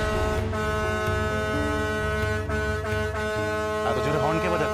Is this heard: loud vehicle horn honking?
yes